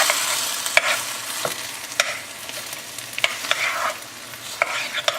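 Tomatoes being stirred into a pan of other vegetables, a steady close sizzle broken by repeated sharp scrapes and taps of the utensil against the pan at irregular intervals, with no voices.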